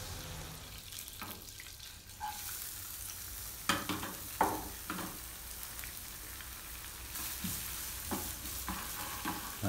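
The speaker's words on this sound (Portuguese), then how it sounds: "a gente vai refogar a abobrinha." Zucchini sautéing in a frying pan that was just used to fry shrimp, with a steady sizzle and intermittent scraping stirs of a utensil against the pan, close and fairly quiet, with no talking.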